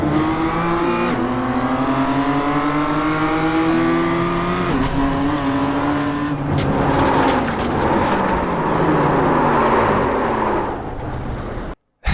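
A race car in iRacing driven with on-off keyboard steering, throttle and brake: a loud, close engine rising and falling through abrupt revs and gear changes, with tire squeal, cutting off suddenly at the end.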